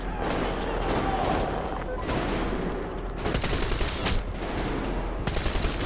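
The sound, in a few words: gunfire in the video game Metro Exodus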